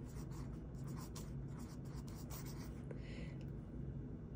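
Soft, close scratching of a pencil moving across paper in short repeated strokes, quiet and steady.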